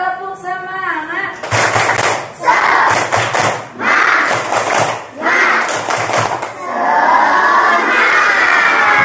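An audience in a hall bursts into bursts of loud rhythmic clapping mixed with shouts and cheers, in repeated waves that are separated by short pauses, and a speaker's voice is heard beforehand.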